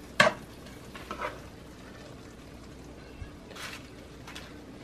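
Taco meat being stirred in a pan on taco night: a few short, scraping stirs with a soft sizzle underneath, separated by quiet gaps.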